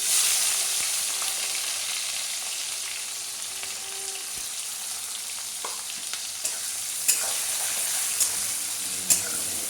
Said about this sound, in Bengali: তারপরে দিয়ে দেবো পেঁয়াজ, কেটে রাখা পেঁয়াজ।